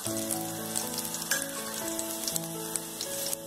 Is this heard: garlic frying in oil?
yes